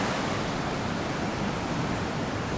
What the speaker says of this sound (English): It's interesting to see the waves coming in from this direction here, cutting across in this direction there, and over here coming in from the ocean.